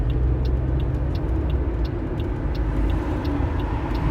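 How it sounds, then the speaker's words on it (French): Heavy trucks and other traffic pass continuously on a busy ring road outside, a dense, loud low roar with faint repeated hiss bursts like air brakes, steady throughout with no gaps. "Désolé pour le bruit, il y a quand même pas mal de camions."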